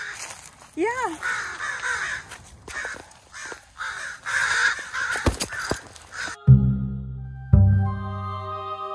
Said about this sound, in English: Baby crow. They're the parents.